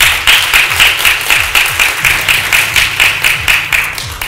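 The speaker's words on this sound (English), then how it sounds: "Please give him a round of applause." Audience at a university startup accelerator workshop claps in a steady round of applause, close and loud, with a faint low voice pattern running underneath.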